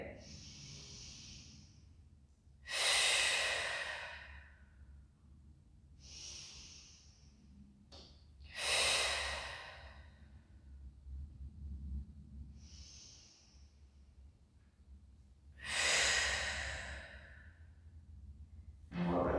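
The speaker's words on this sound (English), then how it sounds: "And we'll breathe into that right rib." Slow, deep breathing during a Pilates side stretch in an introductory class: three long, airy exhales spaced several seconds apart, each preceded by a softer hissing inhale, close and fairly quiet.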